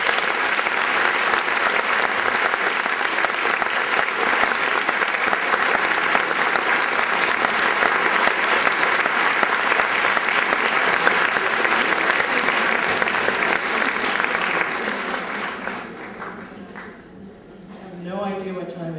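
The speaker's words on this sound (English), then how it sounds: "I know you're going to clap for me, but I hope you'll clap twice as hard and add some applause for yourselves" Sustained applause from a conference audience on sexuality and relationships, loud and steady for about fifteen seconds before tapering off, with a voice speaking briefly at the end.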